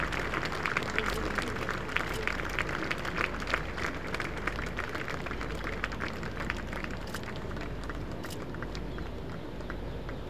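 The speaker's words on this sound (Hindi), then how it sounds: "तालियों की गड़गड़ाहट से स्वागत करें श्री शिवराज सिंह जी चौहान का" A crowd at a 125th Founder's Day event applauds to welcome Shivraj Singh Chouhan, sustained dense clapping with crowd noise and some voices mixed in throughout.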